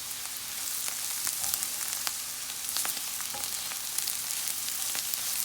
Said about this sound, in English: I'm going to go in with a little bit of salt. Not a lot. I'm going to mix this in.